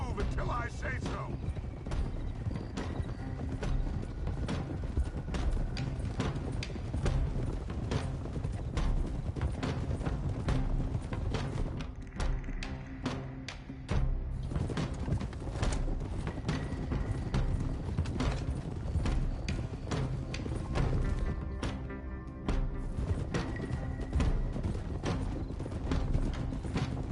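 Several horses trot across ground in Red Dead, a steady near clip-clop of hooves with faint creaking tack and mechanical rattles, continuing for the whole stretch with only brief dips.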